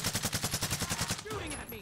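Rapid automatic gunfire from the Warzone (Cold War Warzone) video game, a steady burst of evenly spaced shots that cuts off, followed by fainter game sounds.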